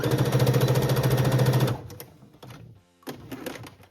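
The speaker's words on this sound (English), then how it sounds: "I'm just doing a back and forth stitch here at where the elastic goes." A sewing machine runs loud and steady for under two seconds, sewing a back-and-forth stitch over elastic on a Christmas dress, then stops, leaving quieter handling noises.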